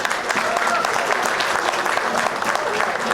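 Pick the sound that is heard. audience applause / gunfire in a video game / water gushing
audience applause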